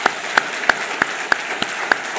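A church congregation claps together during a Sunday service, giving about eight sharp, evenly spaced claps in a steady unison rhythm with no voices over them.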